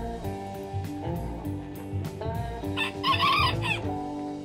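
A rooster crows one drawn-out cock-a-doodle-doo, fairly quiet and heard alone, with a few soft clucks around it.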